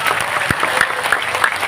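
Audience applause at a large Islamic religious gathering (haul) in Madiun, Java: a short burst of scattered, fairly close hand claps with uneven rhythm, steady throughout and without voices.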